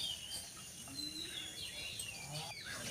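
Small birds, sparrows, chirp and tweet around a goat farm in the morning, a scatter of thin calls layered over a steady outdoor hiss, fairly faint and at a moderate distance, with no talking.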